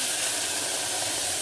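Tomatoes hit hot ghee and cumin in a pressure cooker, giving a loud, steady sizzling hiss that fills the whole short moment without any talk.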